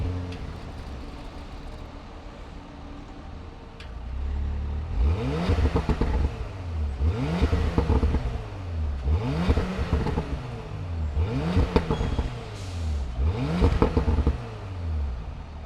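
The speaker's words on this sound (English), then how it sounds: "Let's fire up this Macan and see what it sounds like." A 2019 Porsche Macan S with a 3-liter V6 starts up after a quiet moment, then revs in a series of about five sharp, rising blips spaced a couple of seconds apart, close and loud, with no voices.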